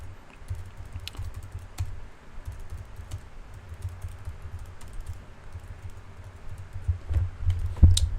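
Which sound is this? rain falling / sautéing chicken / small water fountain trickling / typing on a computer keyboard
typing on a computer keyboard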